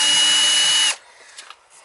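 A power drill whines loudly and steadily for just under a second, backing rusty screws out of an outdoor shower at a summer cottage, then cuts off into near quiet.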